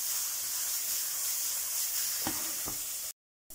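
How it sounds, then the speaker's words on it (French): Mushrooms fry and brown in a pan for an asparagus and mushroom risotto, giving a steady close hiss of sizzling with a couple of soft stirring knocks before the sound cuts off briefly. "Là les champignons sont pas mal, ils sont bien grillés, j'aime bien."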